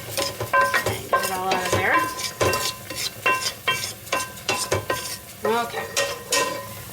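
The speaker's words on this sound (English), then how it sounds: "Quickly give it a little stir." Millet being stirred in a cooking pot, with scraping utensil strokes and clinks of metal against the pan under a soft sizzle, while a voice speaks briefly over it.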